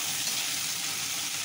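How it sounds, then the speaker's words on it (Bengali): Onions frying in a pan with whole spices for a mutton curry, a continuous hissing sizzle heard up close with an even, unbroken texture. "এখানে পেঁয়াজটা দিয়ে দিচ্ছি। এবার দেখো নেড়ে নেব।"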